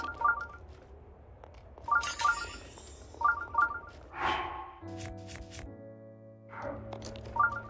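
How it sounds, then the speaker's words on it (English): A telephone rings in bursts in the background, with repeated electronic trills at regular intervals, a brief breathy sound in between, and a sustained tone partway through. "Sorry if you can hear the phone back there."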